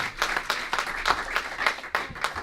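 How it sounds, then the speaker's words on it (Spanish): Church congregation clapping along during a worship service, a steady rhythmic patter of many hands filling the space at moderate volume with no talk over it. "Dale un aplauso al Señor."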